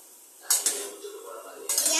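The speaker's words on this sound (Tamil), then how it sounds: "என்ன நீங்கள் கிண்டுறீங்க? கிண்டுங்க நல்லா." A spoon clatters and scrapes against a cooking pot while mutton biryani is stirred, in two short metallic bursts about a second apart, close and fairly quiet.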